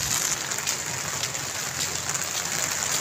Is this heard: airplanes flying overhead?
no